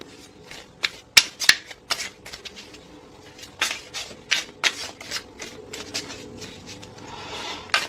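Tarot cards are shuffled for a zodiac reading, heard as a close, irregular run of crisp riffling flutters and slaps that go on through the whole stretch with short pauses between them.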